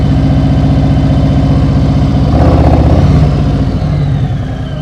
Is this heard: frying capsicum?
no